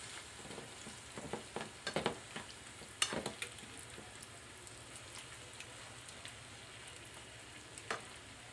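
Spaghetti meat sauce being stirred in a pan, a soft steady sizzle with scattered scraping clicks of the spoon, strongest around the second and third seconds, fairly quiet throughout.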